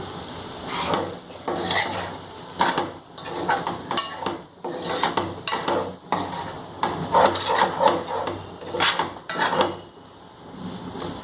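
Chicken fried rice is tossed and mixed in a pan, with repeated scraping and clattering of a spatula against the metal in an uneven, busy rhythm, close and fairly loud.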